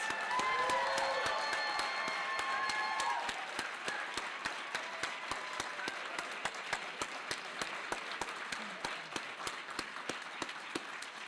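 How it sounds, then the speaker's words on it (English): A ceremony audience applauds honorees at an academic investiture, sustained dense clapping filling the room and tapering slightly to a steady, even patter of individual claps over about eleven seconds. "Please join me in one final round of applause for our honorees, Professors Beth E. Richie and Bernadette Sá"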